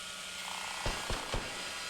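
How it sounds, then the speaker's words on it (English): Drilling into a safe during a jewelry shop robbery in the video game Gangstar Mirage City: three short, sharp grinding bursts in quick succession over a steady low hum, with no talking. "Find the vulnerable point and drill."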